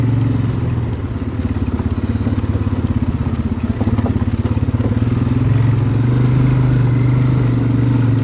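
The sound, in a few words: ATV driving over rocks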